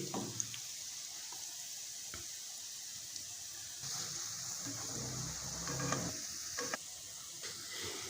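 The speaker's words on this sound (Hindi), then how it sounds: "मैंने तकरीबन 5 मिनट जो है यहाँ गुलाब जामुन को मैंने यहाँ पे फ्राई किया है" Bread gulab jamun frying in oil: a soft, steady hiss of bubbling oil with occasional gentle clinks and stirring touches as the pieces are moved around.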